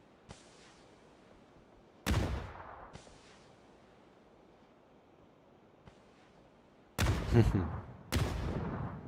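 Grenade blasts and gunfire in a PUBG esports match: a few sharp booming reports with long decaying tails, spaced irregularly over faint background ambience, the last two loud and close together.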